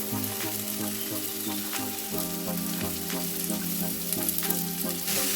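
Chopped onion, carrot, cabbage and capsicum fry with ginger and garlic for rose momo filling, giving a loud, steady sizzle throughout with a faint underlying hum and occasional stirring scrapes.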